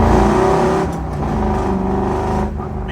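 A 1970 Chevrolet Nova accelerates hard from close by, its engine roaring loud and steady with a brief dip partway through, then climbing again.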